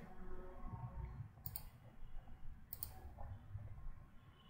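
Two sharp, quiet clicks of a computer mouse pressing a save button, spaced about a second apart, over a low hum with no one speaking.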